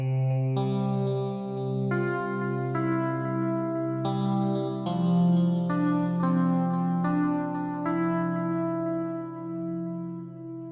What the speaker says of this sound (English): Let's throw on some reverb and some delay on this.